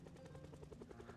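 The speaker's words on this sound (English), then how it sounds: "One of the random events that is the helicopter." A helicopter during a random event in the video game Project Zomboid, a faint, distant rhythmic rotor thumping, steady and pulsing throughout the short moment, with no talking.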